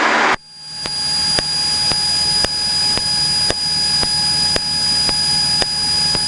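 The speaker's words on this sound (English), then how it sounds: "She's shaking a fist at the noisy airplanes right at the moment" A noisy airplane roars steadily overhead, a loud continuous engine drone that begins abruptly and holds for several seconds with no talking.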